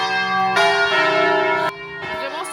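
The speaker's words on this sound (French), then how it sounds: "ça fait 10 minutes que les cloches elles sonnent" Church bells peal loudly and close by in a lakeside town on Lake Como in the rain, the rich ringing tones overlapping and sustaining across the clip, dropping slightly in level near the end.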